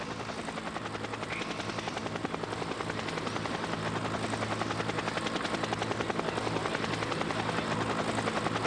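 A helicopter filming the Giro d'Italia cycling race hovers overhead, its rotor a steady, rapid chopping pulse that stays loud and constant throughout.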